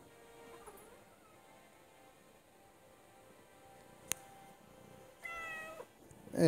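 A house cat gives a short meow near the end of a quiet stretch, after a single sharp click earlier on.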